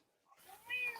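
A house cat gives one short, faint meow that rises out of near silence and swells briefly before ending.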